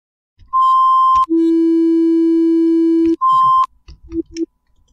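Serum software synthesizer playing a dubstep sustain patch: bright, buzzy held synth tones, a short higher note, then a long lower sustained note, then brief chirpy blips trailing off, loud and clean with no voices.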